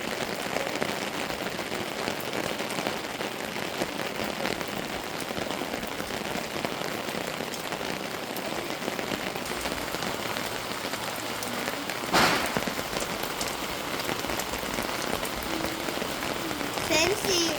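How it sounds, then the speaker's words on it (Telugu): Heavy rain pours steadily in Tirupati, a dense, even hiss of drops drumming on surfaces close by, continuous for the whole stretch with a brief louder splash partway through. "ఈరోజు మా ఊళ్ళో వర్షం పడుతుంది"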